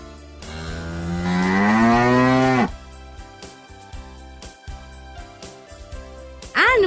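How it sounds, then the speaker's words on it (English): A cow gives one long, loud moo that rises and fades, then a quieter stretch of scattered knocks and rustles before another moo starts at the very end. "Cows give us milk."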